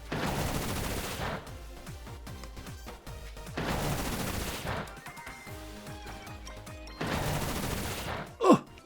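Rillaboom's Bullet Seed attack in Pokemon Scarlet & Violet, three loud bursts of rapid-fire rattling hits spaced by quieter stretches of game music, with a brief electronic sweep near the end.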